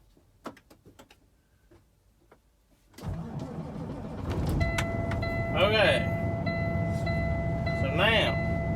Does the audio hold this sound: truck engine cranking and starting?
yes